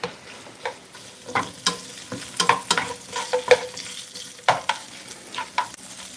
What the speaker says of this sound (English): got the ham, the bacon, the onions going